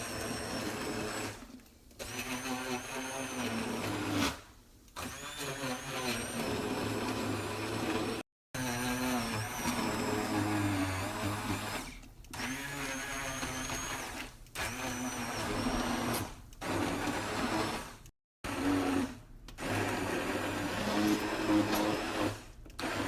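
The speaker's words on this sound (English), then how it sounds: "I have one of these handy dandy immersion blenders, and we're gonna use this to blend it all up" Immersion blender whirring through potato soup in a home kitchen, a loud continuous motor drone with shifting pitch as it churns, broken by a few brief pauses where it stops and restarts.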